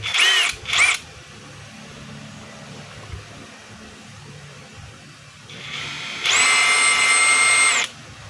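A DeWalt DCH133 20V cordless rotary hammer drills in two short opening bursts. A steadier, louder run of about a second and a half follows near the end, close and alone with no talk.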